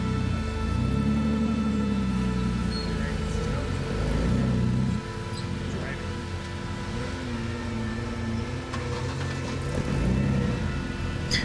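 A heavily modified rock buggy crawls over a rocky obstacle on the Carnage Canyon trail, its engine holding a steady, loud drone with shifting pitch and mechanical clatter as it climbs.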